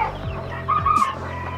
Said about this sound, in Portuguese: Isso aqui é garnizezinho, daqueles anãozinhos.